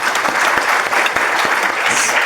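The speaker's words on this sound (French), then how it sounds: "Merci, on peut applaudir." Audience applause at a French debate event on ideology and critical thinking, a short, loud, dense burst of clapping that holds steady throughout.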